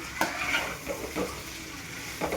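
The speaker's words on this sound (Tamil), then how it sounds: "எண்ணெயில் நல்லா இந்த காயெல்லாம் வதங்கட்டும்" Vegetables sautéing in a little oil for kurma, a low steady sizzle with occasional soft stirring scrapes of a spoon against the pan.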